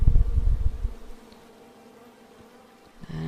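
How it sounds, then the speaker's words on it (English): Loud buzzing of bees swarms up close at first, then fades quickly to a quiet hum, with a faint rise again at the end, from a bee tree in the video game King's Quest. "Come at me, bees!"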